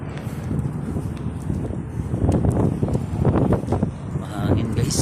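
Strong wind on a dusty day near Riyadh, blowing steadily and loudly into the microphone as roaring, buffeting gusts that rise and fall throughout.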